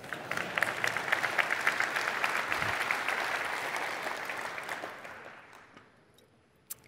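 Applause from a large tech conference audience at an Azure innovation session, a full wash of many clapping hands that holds for several seconds, then thins and fades away, ending with one isolated clap.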